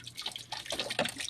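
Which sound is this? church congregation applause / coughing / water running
water running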